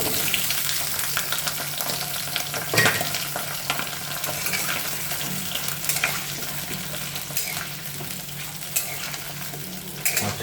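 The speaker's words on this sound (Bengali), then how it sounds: "প্রথমে কড়াইতে তেল গরম করে নিলাম, এবার সাইজ করে কাটা আলুগুলো" Cut potatoes fry in hot oil in a wok for a dum aloo dish, giving a steady, close bubbling sizzle with occasional louder crackles and stirring clatter throughout, no voices.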